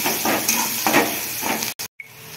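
Chopped onion sautéing in a pan, a steady frying sizzle with a few stirring scrapes, close and moderately loud, then a brief gap of near silence before it resumes.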